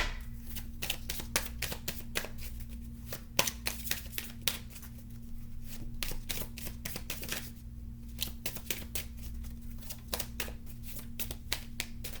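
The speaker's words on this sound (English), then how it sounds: "I'm going to pull Keepers of the Light Oracle card here for you guys." Keepers of the Light oracle cards being shuffled by hand, a steady run of close, crisp riffling flutters and slaps repeating through the whole stretch over a faint low hum.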